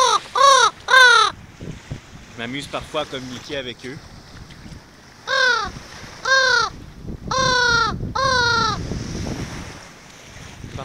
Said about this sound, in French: Les deux corbeaux qui m'accompagnent depuis tout à l'heure.